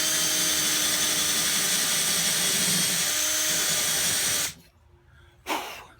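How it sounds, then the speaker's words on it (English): A power drill whines loudly and continuously for several seconds while drilling a hole for a trolling motor plate, stops abruptly, then gives a short final burst. "now let's drill this last one right here"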